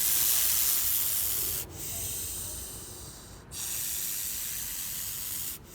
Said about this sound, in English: it hisses, forcing air out through its windpipe, which is covered by a flap of cartilage